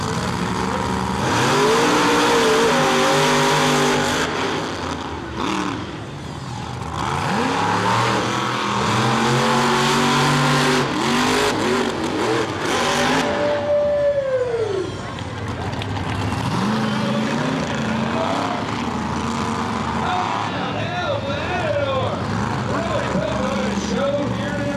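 Monster truck engines rev loudly at an evening monster truck show in Muskogee, Oklahoma, with rising and falling roars and one sharp upward sweep, heard under constant announcer talk over a PA.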